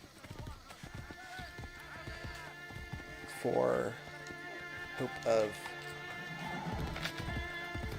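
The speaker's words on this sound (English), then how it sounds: "I'll call my horse." A summoned horse in Assassin's Creed Brotherhood whinnies twice and clip-clops at a gallop amid game ambience and music, with someone talking over it.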